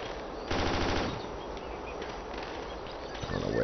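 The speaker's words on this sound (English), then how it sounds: "I don't know where that fire's coming from." Automatic gunfire from a firefight in the video game Ghost Recon Island Thunder: a rapid burst of shots early on and another short burst at the end, over steady background noise.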